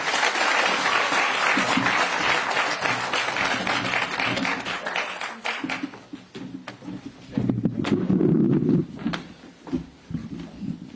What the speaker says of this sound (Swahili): Makofi, makofi, makofi.